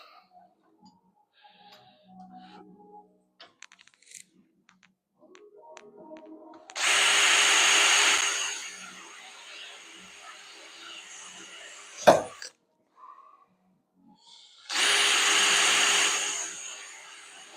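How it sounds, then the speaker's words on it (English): A power drill whirs in two short bursts several seconds apart, drilling pilot holes, with a sharp knock between them and quiet handling noises elsewhere. "Might as well pilot the other ones while I've got the"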